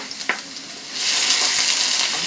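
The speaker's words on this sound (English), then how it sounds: "It will sparkle to let you know your canola oil was just perfect and ready to go. You're gonna saute this." Food hits hot canola oil and sautés, a brief soft clatter giving way to a loud, steady hissing sizzle close by.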